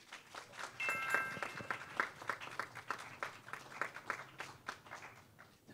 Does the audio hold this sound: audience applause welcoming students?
yes